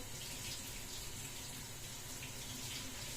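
Tap water runs steadily into a sink as something is washed in the kitchen, a continuous close splashing hiss with no talk.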